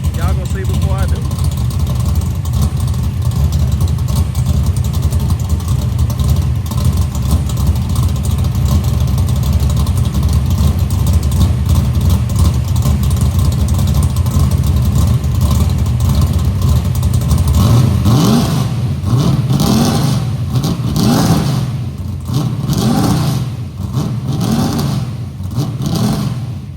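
A big block Chevy V8 with a carburetor being tuned rumbles loudly and steadily at idle, then revs up in several rising and falling bursts toward the end, close and continuous.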